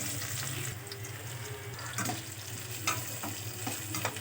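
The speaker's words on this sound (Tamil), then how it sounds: "வெங்காயம் நல்லா வதங்கட்டும்." Onions sautéing in oil in a pan with mustard seeds, fenugreek, fennel, cumin and curry leaves for chana kuzhambu, giving a steady close sizzle with a few soft stirring scrapes and clinks, no talking.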